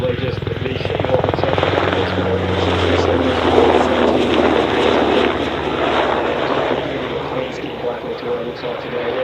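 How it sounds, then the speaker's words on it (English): An MH-60R Seahawk navy helicopter climbs away during an air show display, its loud steady rotor and turbine roar filling the whole stretch, with blade thump audible low and a voice talking over it throughout. "The aircraft is going to the left and just climbing there."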